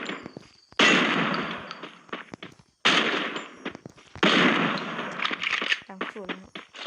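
Automatic gunfire in a shooting video game, loud and close: two long sustained volleys, then a run of shorter choppy bursts.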